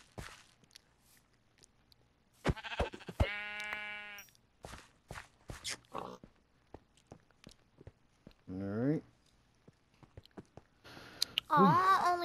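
Sheep bleating in a Minecraft game, with a couple of clear wavering bleats standing out among clicky footsteps and game sounds, while players chat.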